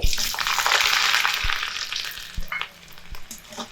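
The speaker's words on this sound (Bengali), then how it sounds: "রসুন দিয়ে একটু নেড়ে চেড়ে নেবো যাতে করে রসুনগুলো খুব ভালোভাবে ভাজা ভাজা হয়" Whole peeled garlic cloves and a pinch of black cumin frying in oil, a steady close hiss of sizzling with a few soft knocks as the pan is stirred, the sizzle easing off toward the end.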